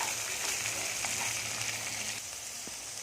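Bottle gourd seeds being roasted in a pan for a chutney make a steady, soft sizzle and crackle that runs close by without a pause.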